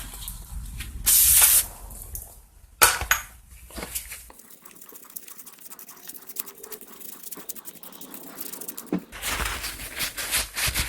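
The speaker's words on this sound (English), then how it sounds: "I'm just going to spray some parts cleaner on it" A short loud hiss from a spray can of parts cleaner, followed by clattering metal and scraping while refurbishing a Poulan P3314 chainsaw, then a longer steady spraying hiss near the end.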